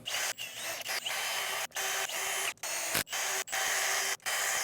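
A power drill driving screws during assembly of a DIY solar generator top, a loud steady whine that stops and starts in several separate runs with brief gaps between them, and no talking.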